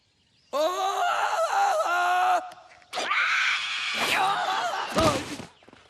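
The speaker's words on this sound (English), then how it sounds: "George, let's have a jungle yell, then jump off." George of the Jungle, a cartoon character, lets out a loud, long wavering jungle yell in two drawn-out bursts with a brief break between them, ending in a sharp yelp and a thump.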